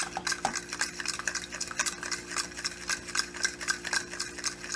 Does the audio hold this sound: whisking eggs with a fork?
yes